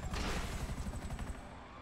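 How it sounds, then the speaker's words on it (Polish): A deep booming blast with a rumbling roll that fades out over a couple of seconds, a rocket explosion in GTA V. "Wystrzeliłem rakietę i wybuchła na mnie."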